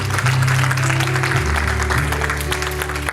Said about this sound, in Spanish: Denle ese aplauso al nombre del Señor.